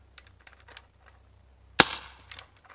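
A Splatmaster paintball gun, an early survival-game marker, fires one sharp, loud pop outdoors, followed by a brief tail and a few faint clicks around it.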